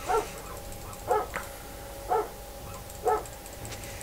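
A single dog barks indoors at a steady pace, four or five distinct, moderately loud barks spaced about a second apart over a low background hum.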